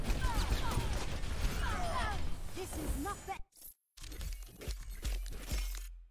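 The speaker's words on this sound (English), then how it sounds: "There's that big shatter bomb combo." In Overwatch, Reinhardt's Earthshatter hits with a crunching, shattering impact amid chaotic battle effects and voices, then a brief silence before D.Va's bomb detonates in a booming blast with debris rattling after.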